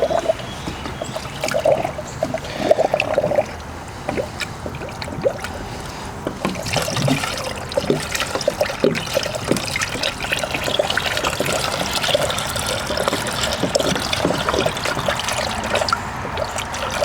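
Coolant drains and trickles steadily from the radiator of a 2005 Chevy Trailblazer, a continuous close liquid splash and dribble that keeps running through the whole stretch with no talk.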